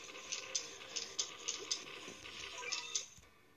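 In The Battle Cats video game, a cartoon cat meows in a quick, evenly spaced series of about nine short, high-pitched calls, fairly soft, over a faint musical background with no speech.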